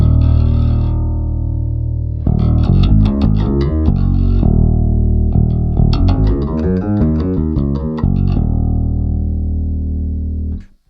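Bass guitar run through a Boss XS-1 polyshifter pedal set one semitone up, playing a short phrase of plucked, distorted notes with a pause, then a busier run of notes, loud and close with no talking.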